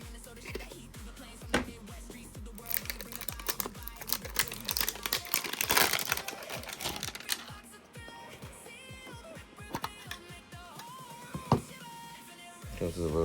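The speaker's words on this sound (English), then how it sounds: "Might as well rip a pack on this episode too." A trading card pack wrapper is ripped open, its foil crinkling and tearing in a busy burst mid-way among lighter tapping and handling noises, close and moderately loud.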